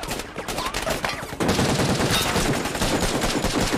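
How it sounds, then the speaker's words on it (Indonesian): Rapid automatic gunfire from a war film battle scene set in Iraq, bursts of machine-gun shots crackling loudly and continuously, thickening into a dense barrage partway through. "Kemudian tim SWAT turun dan membalas tembakan."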